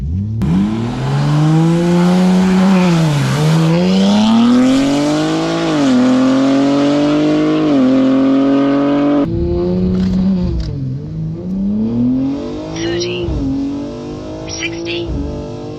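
A car launching hard in a 0-60 run, its engine revving loud and near, climbing through several gear changes with brief dips between shifts, tire noise and faint voices in the background.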